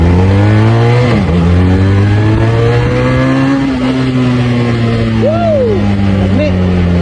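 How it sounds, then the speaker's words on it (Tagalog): A Bristol SRK 400 motorcycle is test-ridden at a dealership grand opening in General Santos. The engine drones loudly and steadily, with pitch shifts as it revs, and voices can be heard around it. "Test drive po nato niya ang SRK 400."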